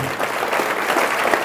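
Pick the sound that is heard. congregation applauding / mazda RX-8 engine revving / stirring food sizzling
congregation applauding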